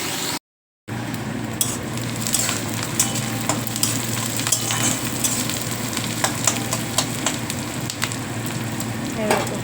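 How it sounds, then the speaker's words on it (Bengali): Eggplant and onion fry in a pan for chachchari, making a continuous close sizzle broken by scattered clicks and scrapes of stirring, after a brief silent gap near the start. "এই বেগুন দিয়ে একটু পেঁয়াজ দিয়ে একটু চচ্চড়ি করছি"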